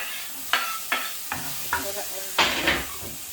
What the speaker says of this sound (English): I'm gonna fry some of the garlic and a bit of chili